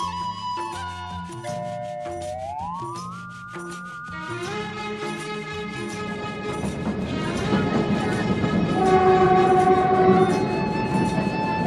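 A small mountain train on the Shimla railway near Dharampur, Himachal, passes with tonal, gliding whistle-like sounds at first, then a rising, rumbling clatter that grows louder toward the end.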